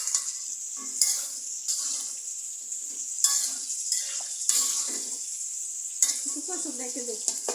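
Hilsa fish fries in a pan with potato and pointed gourd, a bright, steady sizzle close by, interrupted by several sharp stirring bursts and scrapes of a utensil, no talking.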